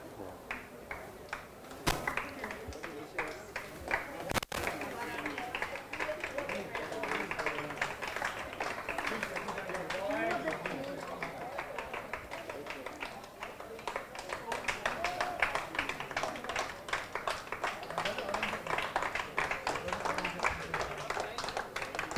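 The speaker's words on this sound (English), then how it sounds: "big round of applause there for GIS under 10s." Spectators applaud the winning under-10s team at a youth sports day's closing ceremony, steady scattered clapping throughout under someone talking over a loudspeaker.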